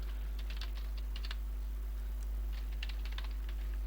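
Java code being typed on a computer keyboard, with quick bursts of light key clicks separated by short pauses, close and clear over a steady low electrical hum.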